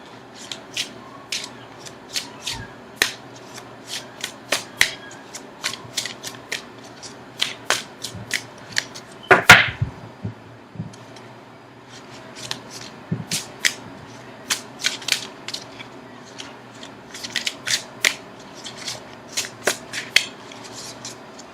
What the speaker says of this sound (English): now I'm going to shuffle for an outcome card